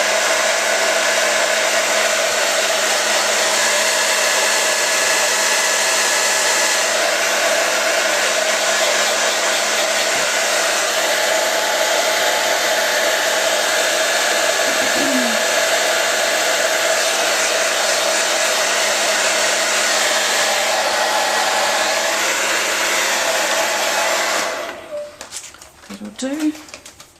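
A hair dryer blows steadily and loudly on paper for a long stretch with a constant whirring hum, then shuts off near the end and a few faint handling clicks follow.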